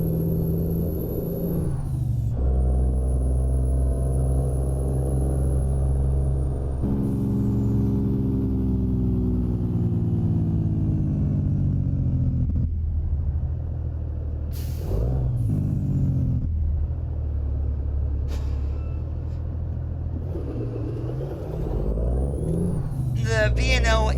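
A Volvo VNL 860 truck with an N14 2.0 engine rated at 525 horsepower rumbles steadily in American Truck Simulator, with occasional sharp air-brake hisses and pitch shifts as it slows, while a voice talks over it.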